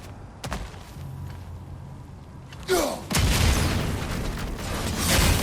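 A bomb explodes in the video game God of War Ragnarok. A rumbling ambience builds into a loud, sustained blast with a sweeping whoosh and heavy low rumble that carries on to the end.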